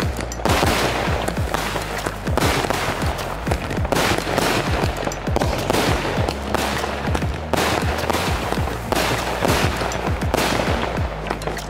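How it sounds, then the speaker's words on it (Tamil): A 30-shot Shamas brand firework cake fires a rapid, loud string of sharp cracking bursts, one after another almost without pause for the whole stretch, each followed by crackle. "நம்ம ஷமாஸ் பிராண்ட்ல இருந்து 30 ஷாட்."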